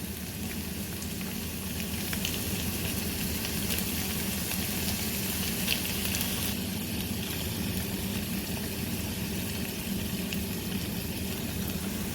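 Ground meat fries in a pan for a keto meat pie, browning with a steady, crackling sizzle that stays loud and even throughout and has no talking.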